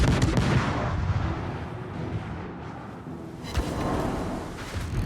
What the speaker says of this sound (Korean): 일제 사격